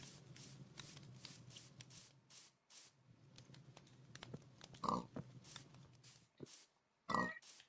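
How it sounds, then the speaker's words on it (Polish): Pig grunting in a video game, several short snuffling grunts at close range over a low background hum and shuffling noise, with two louder bursts toward the end. "No świnia!"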